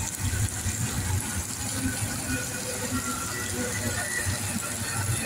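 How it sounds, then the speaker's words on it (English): Heavy rain pours down in a steady, loud, continuous wash of water beside a railway line where freight trains pass, with someone talking over it. "And it is coming a downpour right now."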